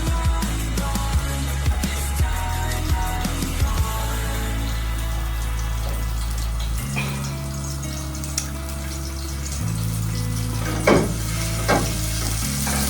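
Ginger fries in oil, making a steady, close sizzle with occasional stirring scrapes, set against a low continuous hum, with no voices.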